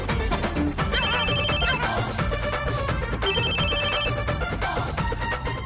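A phone rings while a call is placed to the guru, a loud melodic ringtone repeating its tune twice in quick bursts, close and continuous over a low background.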